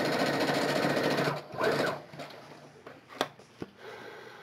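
A sewing machine runs a steady, fairly loud stitching burst for about a second and a half while closing the bottom of a fabric wine bottle holder, then falls quiet apart from a few sharp clicks and knocks.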